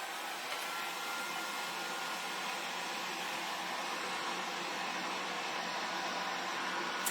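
A hair dryer blows steadily to dry ink on a home decor craft piece, a loud continuous airy whoosh held without a break from start to finish, with no talking over it.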